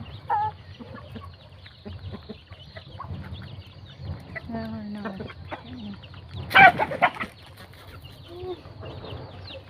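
Chickens in a rural vegetable garden in the morning forest: hens cluck softly and a rooster lets out a loud cackle near the middle, with a person speaking quietly at times.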